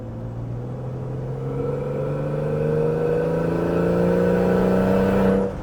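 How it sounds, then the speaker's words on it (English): A self-tuned Barra car engine revs in second gear, a loud, close drone whose pitch climbs smoothly and steadily for several seconds before easing off at the end. "I didn't really rev it that hard"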